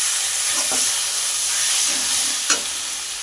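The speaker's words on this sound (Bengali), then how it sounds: "সরষে তেল দিয়ে এটাকে আবার একটু নাড়াচাড়া করে নেব।" Fenugreek greens chorchori being stirred in a pan after a drizzle of raw mustard oil, a steady sizzling hiss with a few soft scraping strokes and one brief sharp clack near the end.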